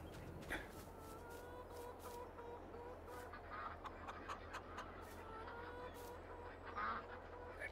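Ducks and chickens on a farm in Farming Simulator 22 cluck and quack faintly in an irregular scatter of short calls over a low, constant background hum.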